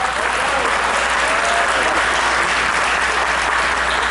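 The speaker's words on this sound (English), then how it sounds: "Let's give another round of applause to Al Norton." A graduation audience at Timbuktu Academy breaks into steady, dense applause that stays loud and even throughout, with no break and no talk over it.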